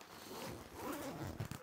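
Zipper on a sunglasses pocket of a 3VGear Redline Transit EDC backpack, heard as a close, continuous rasping pull that ends in a few short tugs, with no talking.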